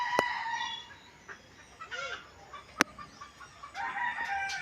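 Backyard chickens crow and cluck at a moderate distance, with one rooster's crow rising and falling amid scattered clucks and a couple of sharp clicks, over a soft outdoor background after afternoon rain.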